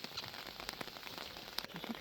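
Soft, steady patter of rain with scattered small drips and ticks landing on a wide pond nearby at Kamikochi, Japan.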